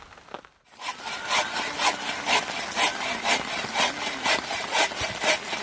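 A hand saw cuts through wood at a rainy campsite in steady, rhythmic back-and-forth strokes, close and clear.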